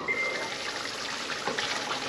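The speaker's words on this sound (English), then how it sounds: "now add the required amount of water and close the lid and cook it for 10 minutes on a medium flame" Water poured into an ivy gourd (tindora) masala gravy in a pan, a steady broad trickling and splashing pour lasting about two seconds, close and fairly loud, with no talking.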